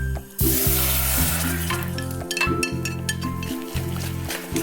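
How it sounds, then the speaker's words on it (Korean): Aster greens (chwinamul) being stir-fried in a pan give a loud, steady sizzle from start to finish, with soft stirring scrapes and faint background music underneath. "빨리 다음 거 취나물을 한번 볶아 볼게요."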